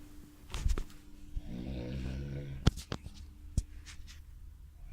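A person snores once, a drawn-out buzzing breath heard close in a quiet room, with soft rustles and clicks before and after.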